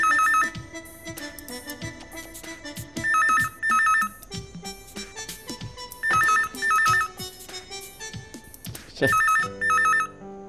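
A telephone rings repeatedly in an indoor Marathi TV drama scene, its bursts of bright electronic trills recurring at steady intervals over about ten seconds, loud and close, with no voices over it.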